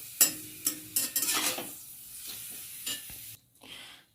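Papad fries in a pan, with bursts of crackling sizzle and stirring scrapes coming in irregular surges, loudest early on before fading to quieter sputters, with no voices.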